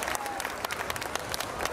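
An audience at the Ukrainian Days Festival claps for a family in embroidered vyshyvanka shirts, brisk overlapping hand claps forming a lively, uneven burst close by, with voices mixed underneath.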